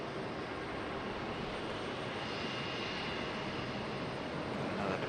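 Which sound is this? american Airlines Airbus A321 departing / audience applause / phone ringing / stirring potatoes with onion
american Airlines Airbus A321 departing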